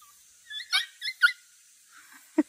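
A dog gives a few soft, high whimpers and yips in quick succession, faint and close, followed by a short low sniff or huff.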